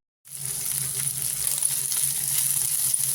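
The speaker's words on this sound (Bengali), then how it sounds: "পেঁয়াজটা আমার ভাজা হয়ে এসছে।" Steady, loud sizzling of chopped onions frying in hot oil with a bay leaf and green chillies begins abruptly and continues without a break, a dense crackling hiss close by.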